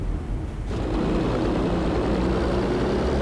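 Aircraft engine drone from the shooter game Battlefield V, a steady loud propeller-plane roar that swells in after a brief quieter start and holds constant to the end.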